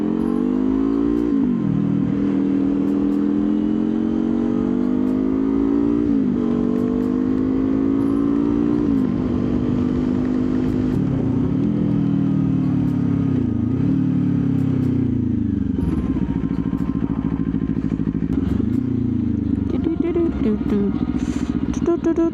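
A Kawasaki Ninja 500 SE motorcycle being ridden on the road, its engine droning steadily and rising and dipping in pitch through several gear changes, with constant wind rush close by and a voice briefly heard over it.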